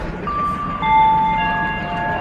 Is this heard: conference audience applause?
no